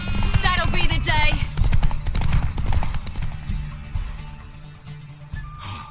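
Horse hooves clip-clop at a brisk rhythm in the video game Witcher 3, mixed with game voices, a short neigh-like cry and background music, then fading toward the end.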